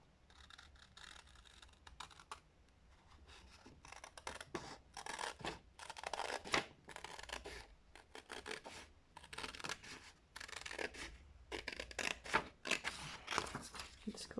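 Scissors cut a paper sheet in quiet, irregular snips and rustling strokes, soft and close, with occasional talking nearby.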